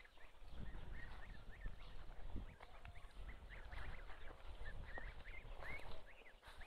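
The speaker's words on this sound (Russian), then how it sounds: "Там уточки гуляют вот." Ducks and geese call around a rural village house yard, with steady quacks and honks from a flock at mid distance over outdoor background noise, and no talk.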